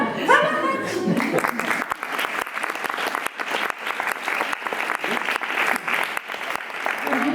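An audience at a conference in Lyon applauds a guest, a full burst of clapping that swells right after a brief voice at the start and carries on loud and sustained throughout.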